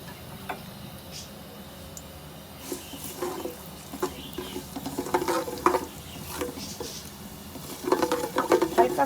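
Nigella, fenugreek and white cumin seeds crackle in hot oil while pickle masala is prepared, a soft, irregular patter of pops and ticks that grows denser and louder toward the end, with no voices.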